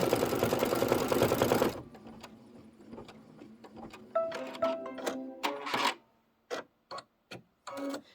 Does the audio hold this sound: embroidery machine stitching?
yes